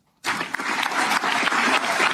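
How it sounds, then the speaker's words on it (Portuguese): Ceremony audience at Brazil's Supreme Federal Court breaks into applause for Alexandre de Moraes, starting abruptly after a brief murmur and continuing as a full, steady round of clapping. "Tendo agora aplaudido Alexandre de Moraes"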